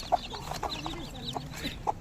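Short, soft clucks from a hen, several spaced irregularly over a quiet farmyard background, fairly close.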